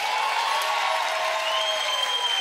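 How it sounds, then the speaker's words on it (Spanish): Audience applause at a live music show, with a dense continuous wash of clapping and crowd noise plus a faint whistle-like tone, steady and fairly loud throughout. "Aplauso, que se escuche"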